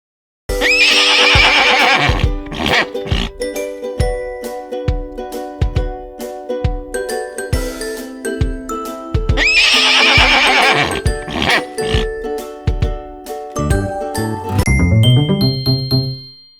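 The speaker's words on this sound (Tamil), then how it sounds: "குதிரை கணைக்கும்." Two loud horse whinnies ring out, each a long shrill neigh, over a steady jingling, clip-clopping musical beat with bells.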